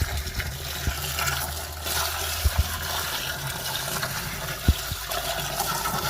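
Water poured over Super Napier grass cuttings soaking in a container on a farm, a continuous steady gushing splash, fairly close, with a few faint knocks and no talking.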